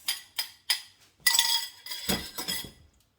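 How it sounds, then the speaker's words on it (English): A spoon strikes and scrapes around a bowl of cornbread dressing batter with eggs, three quick clinks followed by a longer rattling, stirring clatter, close and clear in a quiet kitchen. "Continue to mix"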